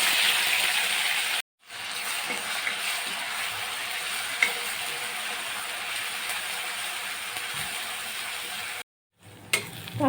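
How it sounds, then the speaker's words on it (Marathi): Ginger, garlic and onion paste frying in ghee in a pan with cloves and bay leaf, giving a steady, close sizzle that runs without a break except for two short silent gaps. "कांदा छान फ्राय झालेला आहे।"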